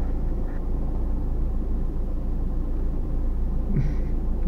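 A car engine drones with a steady low rumble from inside the vehicle as it drives toward the forest, constant and fairly loud with faint road noise.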